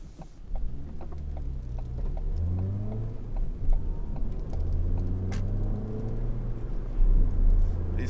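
A 2017 Ford Fiesta with a 1.25 Zetec engine, heard from the cabin while driving, gives a moderate engine rumble that rises and falls in pitch through repeated accelerations over road noise.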